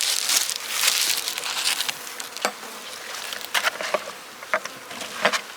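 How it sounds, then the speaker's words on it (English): Honey bees buzz steadily around an opened hive, a close, dense drone with individual bees flying past the microphone in brief louder swells. "And then the bees can still crawl under it."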